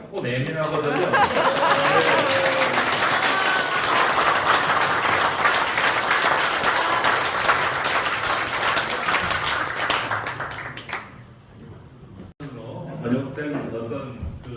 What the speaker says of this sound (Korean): 저기 박수 소리가 조금 예민하거든요